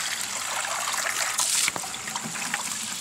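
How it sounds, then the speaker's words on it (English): Water from a garden hose rinsing leftover soaked chicken grain out of a strainer, a steady close splashing trickle with a brief louder gush in the middle. "And then you take your hose and you get anything left in the strainer."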